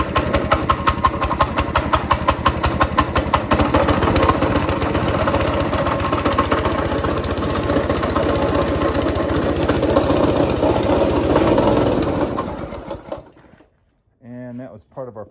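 A small go-kart engine that runs poorly idles with a rapid, uneven chugging for about twelve seconds, then cuts out, followed by a short burst of speech.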